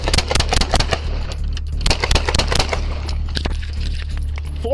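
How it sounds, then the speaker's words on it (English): Gunfire during a police shootout crackles in rapid, dense bursts of sharp shots, with a scattering of further cracks trailing off against a low rumbling background. "Shots fired. Spooner and Southmore."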